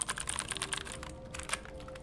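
Rapid clicking keystrokes on a computer keyboard, close and crisp, tapping in quick irregular bursts with a brief lull, with a faint steady tone humming underneath.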